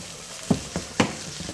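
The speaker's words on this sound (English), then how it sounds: "I'm going to go ahead and add the meat" Meat goes into a hot pan for a Puerto Rican-style shepherd's pie, giving a steady sizzle punctuated by several light clicks and clatters of stirring, close up and without talk.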